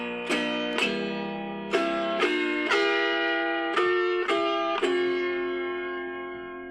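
Autoharp strummed to play the rest of Red River Valley, a series of bright chord strikes at an unhurried pace, each ringing on with long sustain, close and clean with no voices.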